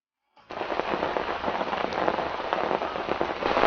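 Heavy rain pouring down at a riverside carp fishing spot on the Vaal River, starting abruptly and continuing as a dense, steady, close hiss of drops pattering on surfaces.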